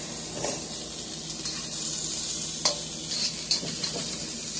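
Beef cubes and yellow peppers sizzle in a pan as they cook down, a steady frying hiss broken by a few brief sharper pops and stirring scrapes.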